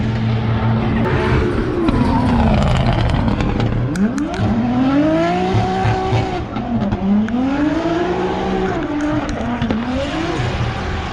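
Drift cars run a Drift Masters practice session at a round in Spain, with loud engines revving and sweeping up and down in pitch, tires squealing through slides, and a constant dense roar of close trackside racing.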